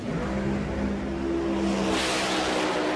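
A Pro Modified drag racing car launches down the strip at about 185 miles an hour, a loud, steady engine roar that rises toward a brighter, higher whine, heard alone without talk.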